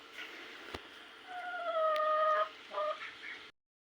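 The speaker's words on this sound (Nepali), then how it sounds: "हाम्रोमा चाहिँ यति धेरै कुखुरा छ।" Chickens at a household farmyard, heard as a few drawn-out, tonal clucking calls in the middle and a shorter call near the end over a quiet background, with no talking.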